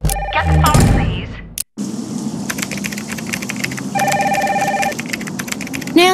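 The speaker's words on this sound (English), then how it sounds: "Get the phone, please." Telephone ringing in a Nancy Drew video game, with repeated bright electronic rings in bursts amid clicky, typing-like game sounds, after a short burst of music and a brief silent gap.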